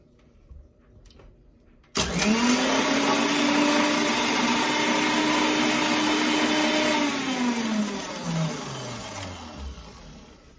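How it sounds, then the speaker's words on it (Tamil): Mixer grinder grinding green chillies, starting abruptly after a quiet moment into a loud, steady motor whine with a rattling blade load, then the pitch sags as it winds down near the end. "மிக்சியில ஃபர்ஸ்ட் பச்சை மிளகாவை மட்டும் கொஞ்சம் நல்லா அரைச்சுக்கோங்க"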